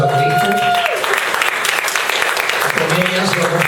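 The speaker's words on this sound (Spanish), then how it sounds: "Den un fuerte aplauso a Cristo." Church congregation claps steadily in a dense, continuous wave throughout, with a voice and a sustained musical tone carrying over the applause.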